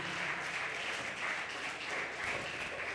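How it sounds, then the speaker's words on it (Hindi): A sermon congregation breaks into vigorous applause, dense steady clapping that fills the whole stretch without pause, fairly quiet overall. "जोरदार ताली"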